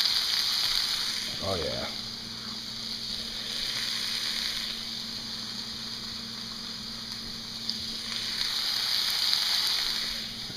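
Chopped amaranth greens frying in oil in a pan give a steady, close sizzle that holds throughout, with a brief stir and a short spoken remark near the start.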